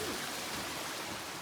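Broadband rushing of river water at a trail river crossing in the Appalachian backcountry, a steady, close wash of flow holding even throughout with no talk over it.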